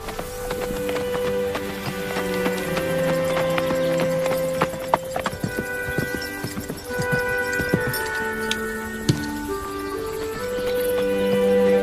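Horse hooves clip-clop in a steady rhythm over a dense background of music, continuing throughout at a moderate, close distance.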